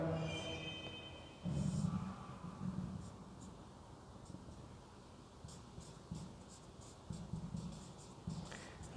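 Pen or pencil scratching across paper while labels are written onto an RCC column drawing, with soft intermittent strokes, close and quiet, and no talking.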